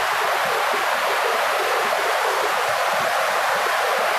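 A river flows strongly through dense forest near a village, a loud, unbroken roar of rushing water that stays even throughout with no voices.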